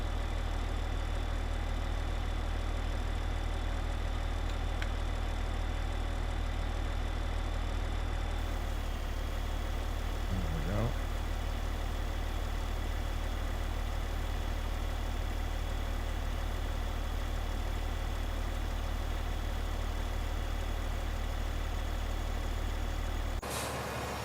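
A tractor engine in a farming video game drones steadily at idle, a constant low rumbling hum that runs unbroken and fairly loud, with no voices.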